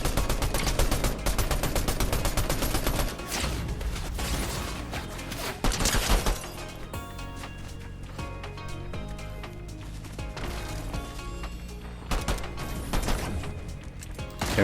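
Rapid bursts of gunfire in Fortnite zero build solo tournament play, loud dense volleys of automatic and single shots in repeated clusters throughout, with game effects between bursts.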